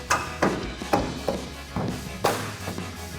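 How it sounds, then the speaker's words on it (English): A 2019-2025 Chevrolet Silverado 1500 black-housing LED tail light is tapped into place by hand: about seven sharp, close knocks come at an irregular pace, some heavier than others, with no talking. "And you get a good tap in place."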